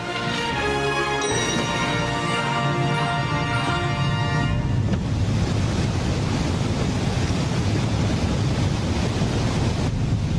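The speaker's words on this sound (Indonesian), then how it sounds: "Jadi ini air terjun Iguazu." In a Doraemon cartoon scene, a short stretch of music gives way to the deep, continuous roar of Iguazu Falls, loud and steady to the end.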